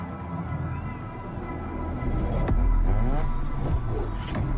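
Mazda RX-7 engine revving in The Crew Motorfest racing game, a steady mid-pitched drone that swells louder partway through with a sharp transient and rising rev sweeps, backed by in-game ambience.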